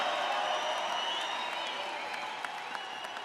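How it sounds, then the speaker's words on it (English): Large crowd at a presidential rally in Colorado Springs, applauding and cheering in a broad, sustained roar that fades slowly toward the end, with faint scattered whistles rising above it. "Give them another round of applause."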